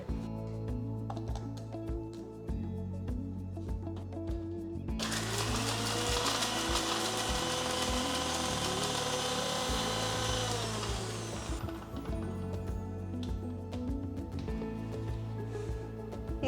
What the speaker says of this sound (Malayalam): ഇത് രണ്ടും കൂടെ നല്ല പേസ്റ്റായിട്ട് അരച്ചെടുക്കുക.